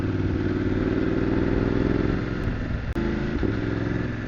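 A motorcycle engine runs steadily at close range on a wet road in the rain, a constant mid-pitched drone with one brief dropout near the end.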